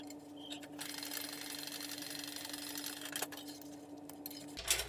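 A sewing machine runs steadily as it top stitches along the base edge of a messenger bag, a continuous close mechanical whir with a faint hum, stopping just before the end.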